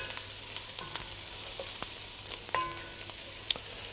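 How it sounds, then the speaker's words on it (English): Garlic added to softened onions fries in a pan for a Tuscan dish, giving a steady bright sizzle with faint clinks and stirring scrapes. No voices are heard. "So once the onions are soft, you add the garlic, and then you cook it off."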